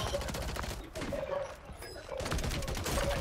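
Rapid gunfire from the video game Warzone, dense bursts of shots repeating across the whole stretch with brief lulls, loud and close, with a player's voice talking over it.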